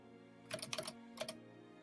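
A computer keyboard clicks in a quick cluster of several keystrokes, then a short pause and a couple more, fairly faint and close over a steady low hum, with no talking.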